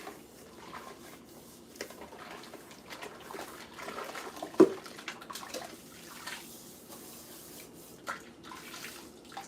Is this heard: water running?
yes